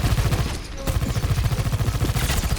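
Rapid automatic gunfire in the first-person shooter Overwatch, a dense, loud, steady rattle of shots with a brief lull near the start, with no talking.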